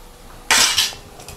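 A spoon scrapes and clinks in a pan while cooked rice is mixed into a raw mango mixture, a single sharp burst of metallic scraping followed by a couple of softer taps.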